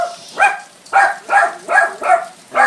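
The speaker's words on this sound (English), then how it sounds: "I open up the door and the dogs go crazy" Dogs bark excitedly at the door of a house during rain, six loud, close barks spaced roughly every half second in a quick, regular rhythm.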